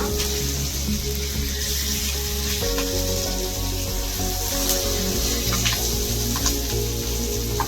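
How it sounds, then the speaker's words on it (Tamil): Steady, loud sizzling of seer fish (vanjaram) frying in hot oil, a continuous crackling hiss with no talking. "பாருங்க, நம்ம மீன் வந்து நல்லா பொரிஞ்சிச்சு."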